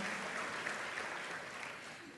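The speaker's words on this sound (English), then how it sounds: "Please join me in a round of applause" Audience applause at a regional chamber of commerce annual meeting and awards luncheon, a thick, sustained sound of many hands clapping at a steady level throughout.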